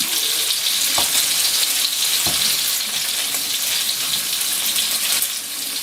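Bacon sizzling loudly in a pan as it is flipped, a dense bright crackle throughout with two brief clanks from the turning.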